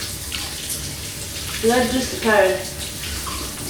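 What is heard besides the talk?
shower running water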